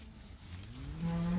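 Cattle in a cow mob moving onto a hunting farm, a nearby cow lowing in a long rising moo that swells louder toward the end over faint outdoor ambience, with no talking.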